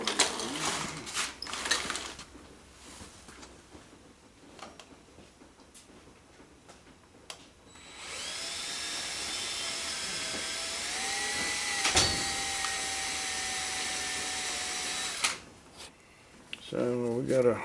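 Power drill boring a bolt hole into a John Deere flywheel for tapping threads: a steady whining drill run of several seconds in the middle, with handling clatter and talk before and after.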